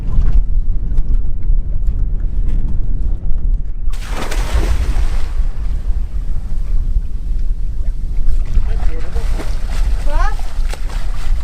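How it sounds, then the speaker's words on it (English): Strong wind rushes over a small boat on the sea off Corfu, Greece, roaring steadily against the microphone from start to finish, with water sloshing and voices at times. "The wind is pushing the boat away."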